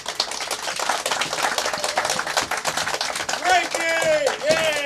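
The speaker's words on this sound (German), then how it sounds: "Einen großen Applaus für den Frank." Scattered clapping from a small group on a German livestream, uneven and close, with voices talking and calling out over the claps toward the end.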